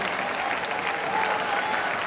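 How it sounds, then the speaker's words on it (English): Steady audience applause for the parents of young string players at an all-city youth orchestra concert, a dense continuous patter of many hands filling the hall at an even level throughout. "Everyone, let's give our parents a round of applause."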